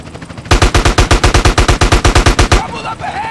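Automatic gunfire in GTA San Andreas, a rapid burst of about twenty loud shots at an even rhythm that stops abruptly, with game voices faintly audible before and after.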